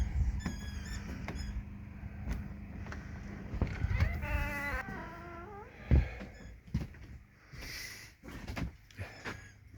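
A pet cat meows several times indoors, short high calls scattered among soft thumps and rustles, close to the listener and fairly quiet.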